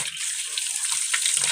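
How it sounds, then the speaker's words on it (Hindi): Water pours steadily onto uncooked rice in a bowl for washing, a continuous bright splashing gush at close range with no talk. "चावलों में डालेंगे हम पानी।"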